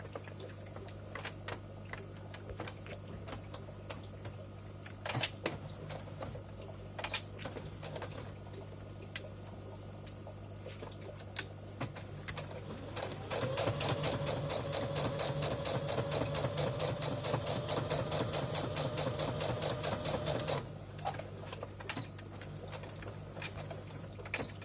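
A sewing machine stitches a fabric coaster, running in a steady, fast mechanical whir from about 13 to 21 seconds, with quieter clicks and handling noises before and after.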